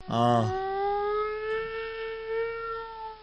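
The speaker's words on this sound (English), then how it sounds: "one sound that I've heard commonly here in Chicago is my cat, but also tornado sirens" A long, steady tornado siren wail in Chicago holds a rising then level tone, following a brief cat meow at the start.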